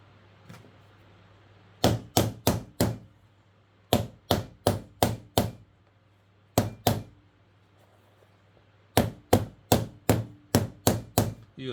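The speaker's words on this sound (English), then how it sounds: "Use a rubber hammer. I have a small rubber hammer." Small rubber hammer pounding a piece of a steampunk octopus tentacles bag in rapid bursts of four to six sharp blows each, separated by short pauses, close and loud with no talking.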